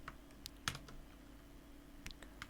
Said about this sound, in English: I would have to type out console.log